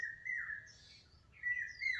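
Domestic geese call in thin, drawn-out whistling notes, two quiet calls separated by a short pause, with no one talking.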